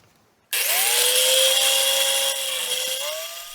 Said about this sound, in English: The saw runs like clockwork